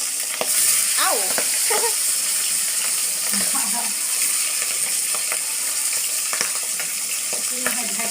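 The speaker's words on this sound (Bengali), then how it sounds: "এই আলুগুলো ভেজে নেওয়া হচ্ছে" Potato pieces fry in hot oil for a cabbage ghonto, giving a steady, dense sizzle that runs the whole time, with occasional spoon stirs and a few brief words spoken over it.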